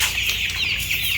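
Chickens on a farm clucking steadily together at close range, a continuous busy chatter of hens with no talking.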